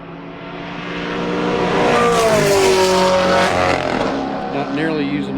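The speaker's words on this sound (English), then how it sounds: "I hear the bright green Camaro coming around the last corner" A bright green Chevrolet Camaro race car comes around the last corner at Summit Point, its engine note rising and sweeping in pitch as it passes loudly nearby, then fading, with commentary voices over it.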